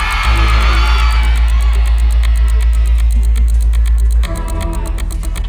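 A television dance competition audience roars and shouts a loud collective answer, a sustained crowd yell with whoops that holds steady and then drops abruptly to a lower murmur near the end.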